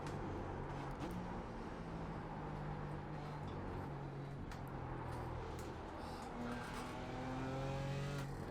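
Race car engine in iRacing during an IMSA Pilot Challenge race at Barber, droning steadily and loud throughout, with shifting pitch as it revs and eases through corners, other cars audible nearby.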